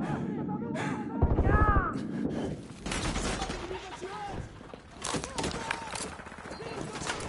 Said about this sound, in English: Why are they shooting me from behind?